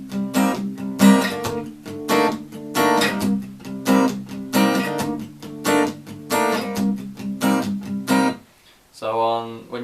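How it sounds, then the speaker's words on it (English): Acoustic guitar strummed in a steady pattern of palm-muted strokes mixed with a few open, ringing normal strums, played close and loud, stopping briefly before a final strum. "so you can add a few normal strums in there in amongst the palm muting"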